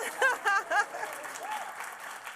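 An audience claps softly and steadily in the background while voices cry out and cheer over the top in short, bright bursts.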